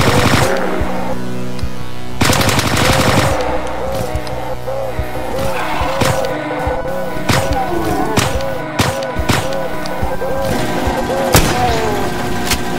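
Rapid automatic gunfire rings out in the shooter DOOM: Hideous Destructor, with loud bursts and a steady chatter of shots that carry on through most of the stretch, joined by sharper individual blasts.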